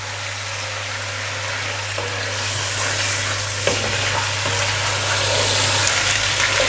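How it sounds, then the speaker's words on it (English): Chicken pieces fry uncovered in a hot pan, a steady close sizzle with occasional crackles and a stir, plus a low constant hum underneath. "now we can add our chicken in, and we're going to fry our chicken for approximately 5 to 6 minutes"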